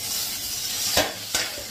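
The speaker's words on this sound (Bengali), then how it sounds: "এই যে পটল ভাজা হচ্ছে" Pointed gourd sizzles steadily as it fries in a pan, with two quick scraping stirs partway through and no talking.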